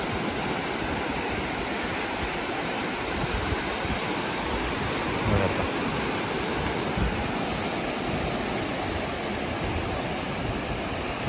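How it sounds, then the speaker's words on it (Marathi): Small, gentle sea waves wash continuously along Shrivardhan Beach on a calm day, a steady broad roar of surf heard up close with no voices. "हवा तेवढी जास्त नाही आहे, त्यामुळे ना लाटा खूप मोठमोठ्याला येत नाही आहेत."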